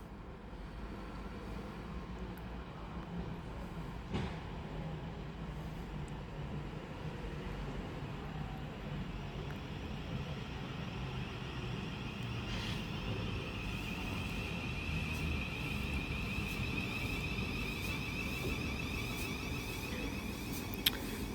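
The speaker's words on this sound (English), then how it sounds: "approaching now is the 11:40 Thameslink service from Rainham to Luton. Being worked by 700-013 on this one." A Thameslink Class 700 electric train pulls into Chatham station, a steady broad rumble and hum building gradually over about twenty seconds with a few brief clicks, heard at moderate distance with no voices.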